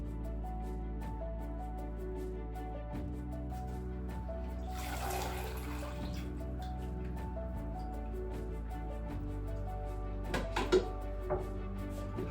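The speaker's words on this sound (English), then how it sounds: "We want to strain the pasta." Hot cooked pasta water is poured off into a strainer, a short rushing gush of liquid over a steady low hum, followed by a few clattering knocks of the pot and strainer toward the end.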